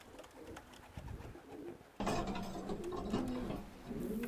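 A racing pigeon lands at its home loft with soft wing flutters and faint coos, then a sudden louder clatter of mechanical rattling at the trap, with birds calling nearby.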